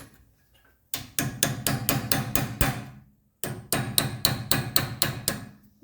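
Hammer taps seating brake caliper pins with lead washers on a 1984 Mercedes 300TD, two bursts of about eight sharp, evenly spaced metallic strikes separated by a pause, close and loud with no talking.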